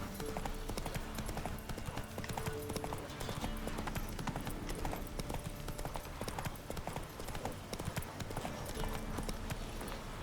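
Rapid rhythmic hoofbeats of a galloping horse in The Witcher 3, steady and continuous, mixed with game sound effects and background noise.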